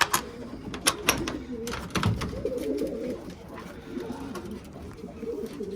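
Pigeons cooing in a loft, low repeated coos close by, mixed with wing flutters and scattered clicks and taps, while someone talks intermittently.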